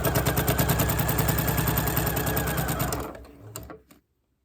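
A home sewing machine fitted with a walking foot stitches binding through layered quilt fabric, giving a steady rapid mechanical rattle that runs for about three seconds, then slows and stops with a few last clicks.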